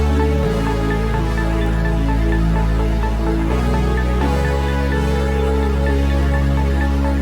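Two synth melodies, one from an analog lap synth and one from a Juno marbles preset, layered over sustained chords with a heavy low end, loud and steady with chord changes and no speech.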